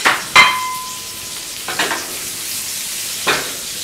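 Beef rump steak sears in browning butter over high heat with pepper, a bright crackling sizzle punctuated by a few sharp metallic clinks of utensils against the pan.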